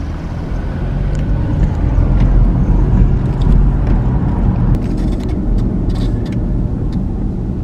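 Car driving along a road through hilly Appalachian river-town country in Ohio, a steady close rumble of engine and tyres with constant road noise and no talking.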